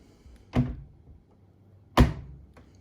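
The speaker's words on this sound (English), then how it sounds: "Shut the door." The door of a Beko hybrid tumble dryer is shut with a dull thunk, twice, close and alone in a quiet room.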